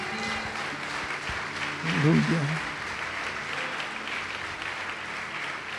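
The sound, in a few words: congregation applauding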